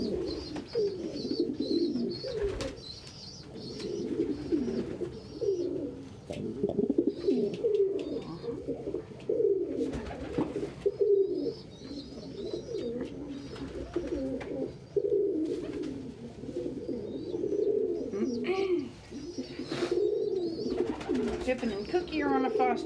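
A large pet pigeon, about the size of a small chicken, coos in soft repeated low phrases close by indoors, while a person talks over much of it.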